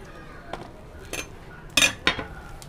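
A knife cuts cucumber for a Hong Kong-style cucumber and bell pepper salad, giving four crisp, irregular taps of the blade on the board, close and clear, with no talking.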